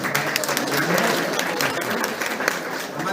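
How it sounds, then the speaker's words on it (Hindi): A crowd applauds warmly to welcome a doctor at a blood donation camp event, a continuous, fairly loud burst of many people clapping with a faint voice beneath. "जोरदार तालियों से उनका स्वागत करेंगे"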